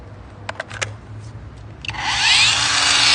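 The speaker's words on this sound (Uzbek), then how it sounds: "Bolgarkamiz." A few clicks, then an angle grinder whirs up to a loud, close, high-pitched whine and keeps running.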